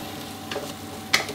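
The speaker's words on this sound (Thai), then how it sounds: "ขั้นตอนนี้เราต้องผัดจนกระทั่งกะทิกับพริกแกงเข้ากันดีแล้วก็พริกแกงออกกลิ่นหอมดีก่อนเลยนะครับ" Coconut milk and panang curry paste sizzle softly in a pan for a Thai panang chicken, with a low steady frying hiss broken by two brief scraping stirs of the utensil.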